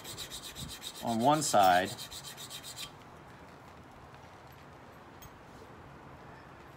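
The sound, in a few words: grinding a new flat bevel on a tanto knife tip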